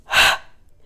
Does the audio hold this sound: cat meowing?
no